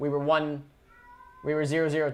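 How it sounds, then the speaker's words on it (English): A pet cat lets out two drawn-out, loud meows close by, separated by a brief pause with faint background sound. "That was my cat crying because he's an animal"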